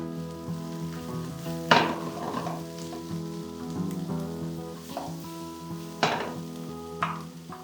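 Onions sizzle and fry with green chilies and a pinch of salt in a pan, with steady crackling, several sharp stirring scrapes and clinks of a utensil against the pan, close and moderately loud, with no talking.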